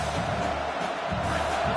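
A football stadium crowd roars steadily and loudly through the whole stretch, a dense, continuous wash of many voices with no clear breaks.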